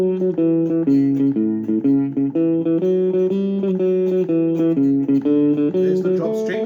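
Electric guitar plays a boogie riff with a dropped bass string, a steady rhythmic run of bright picked notes over a pulsing low line, close and clear with no talk.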